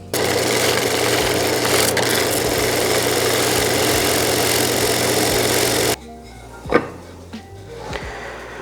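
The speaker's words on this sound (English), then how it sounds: "will fit on your disc sander, do it that way" A disc sander flattens a glued segmented wooden bowl ring with a steady, loud whirring grind for about six seconds, then stops, leaving a few scattered knocks and handling clunks.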